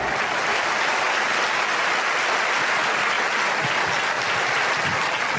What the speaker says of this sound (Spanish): Aplaude más que eso si lo crees, que se escuche en el mundo.